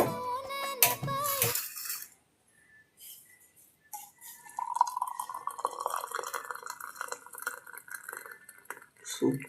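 Boiled spiced water strained into a glass in a kitchen, a brief clatter of utensils followed by a thin trickling pour that rises and falls, faint and close.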